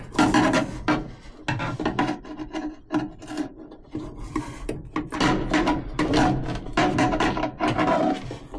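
Screwdriver working a wiring harness pin loose beneath the dash of a 1963 Chevy C10 pickup, continuous close scraping, rubbing and rattling with uneven bursts throughout.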